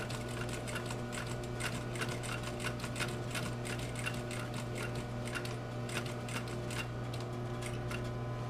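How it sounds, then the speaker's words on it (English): A sewing machine stitches around a leather bag with a steady, rapid mechanical clatter and hum, continuous and fairly faint, without talking. "I'm going to just stitch all the way around."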